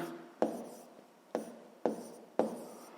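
Pen strokes on paper while a sixth-grade maths exercise is worked out by hand, four sharp tapping scratches at irregular intervals, each fading quickly, close and fairly quiet with no talk.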